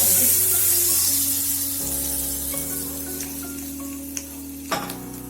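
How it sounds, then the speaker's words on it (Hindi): A loud, steady sizzle of hot tempering oil hitting a pan of cooked mustard greens (sarson ka saag), crackling continuously and slowly fading, with a couple of sharp clinks near the end. "तड़का इसी में डाल दें।"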